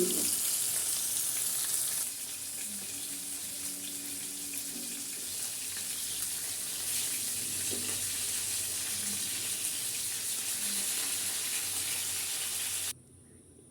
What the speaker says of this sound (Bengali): মাছটি আমার প্রায় ভাজা হয়ে এসেছে